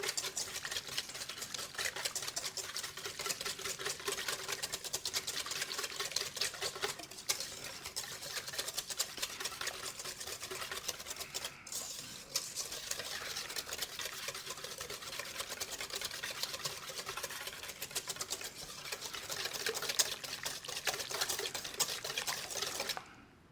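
Batter for applesauce spice bread whisked by hand in a bowl, a steady, rapid, fairly quiet scraping and clicking that runs continuously throughout with no talking.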